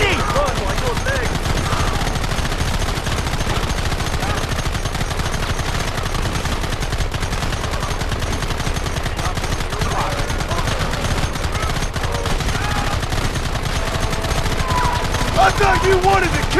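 Dense, continuous gunfire from a shootout in Red Dead Redemption: rapid overlapping rifle and pistol shots crackle nonstop at loud volume, with voices shouting now and then beneath the barrage.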